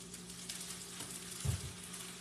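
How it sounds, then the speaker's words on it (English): Potato cakes frying in a pan give a steady, soft sizzle and crackle throughout, with a slightly louder pop or scrape near the middle; no talking. "Now, I deliberately left an ingredient out of these that I'm frying right now."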